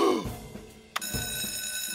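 A telephone rings in a Norwegian-dubbed Fireman Sam cartoon, with a short ringing burst followed by a sharp electronic trill, fairly close and clear.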